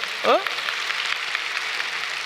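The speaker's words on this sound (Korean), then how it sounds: "이게 박수 한번 쳐주면 안 될까요?" At a Korean New Year revival service, the congregation breaks into applause, a continuous wash of clapping heard at a distance after a brief vocal exclamation at the start.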